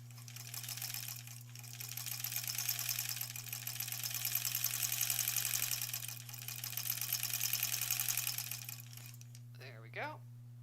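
Sewing machine stitching a quilt block: a steady, faint mechanical whir holds through most of the stretch with a constant low hum beneath it, then stops near the end as a voice briefly speaks.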